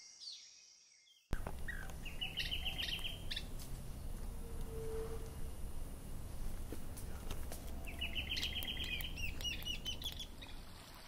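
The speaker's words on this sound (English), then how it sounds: "This black-striped wood creeper gets its main course." A black-striped woodcreeper calls in a Costa Rican forest on the Osa Peninsula, two bursts of rapid, evenly spaced high notes over steady forest ambience after a quiet start.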